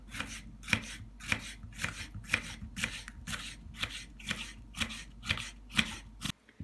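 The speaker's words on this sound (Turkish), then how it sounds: "Birkaç yerinden çizikler atıp ince ince doğrayalım." Steady, rhythmic knife chops on a cutting board, thinly slicing vegetables, roughly two per second, close and crisp with no talking.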